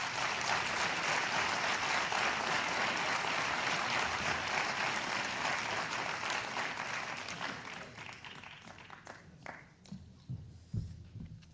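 An audience at a celebration for the Airbus 8 workers bursts into dense, sustained applause that holds for several seconds, then thins and fades into scattered individual claps and room noise.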